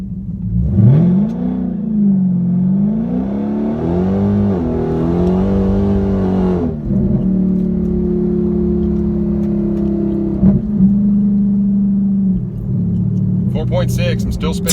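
A 2019 Dodge Scat Pack or Hellcat pulls hard from a launch, its loud engine rising and falling in pitch as it revs through the gears, with a steady rumble beneath and brief talk inside the car.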